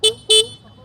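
Two short, loud beeps from the horn of a 2023 TVS Raider 125 motorcycle, heard up close in quick succession.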